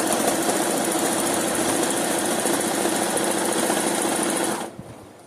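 A sewing machine stitches fabric for a top, a steady fast mechanical whirring buzz heard up close that runs evenly and then stops abruptly near the end.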